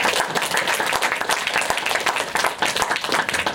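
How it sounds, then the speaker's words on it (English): Sustained applause from a roomful of people, dense clapping that stays fairly steady and close throughout. "I hope you could hear the applause you were getting in the room"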